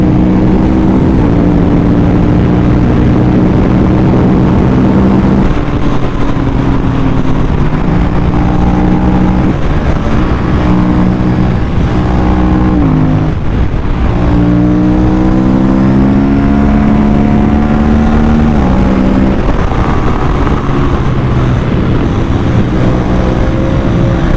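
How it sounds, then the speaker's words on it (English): A modified Aprilia RS457 motorcycle engine revs hard and loud, with rapid quick-shifter upshifts cutting in between rising runs and a brief dip mid-way, unbroken by any talk. "this quick shifter sounds so good"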